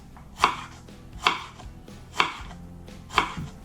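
A knife chops cucumbers into strips on a cutting board, four distinct thuds spaced almost a second apart, close by with faint kitchen background noise.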